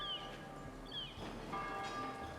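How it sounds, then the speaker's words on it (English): Bells on a gate in the village-building game Foundation ring softly, a few light metallic chimes with lingering tones rising and fading over a quiet background. "Bells."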